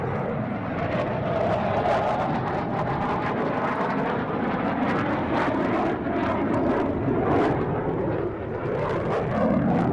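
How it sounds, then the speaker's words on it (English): A fighter jet roars past at close range, a loud, continuous broadband engine rush that swells and shifts in pitch as it passes, filling the whole stretch with no voices heard. "You're going to get a fighter pilot coming right by."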